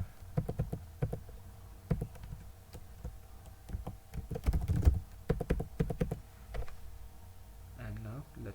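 A new password is typed on a computer keyboard in quick uneven bursts of clicking keystrokes, with brief pauses between runs and a low background hum.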